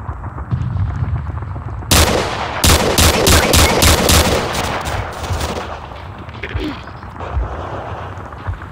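Gunfire in the Roblox game World War 3: a low background rumble, then loud, sharp bursts of automatic fire from about the two-second mark, several rapid volleys close by before fading back to distant rumbling.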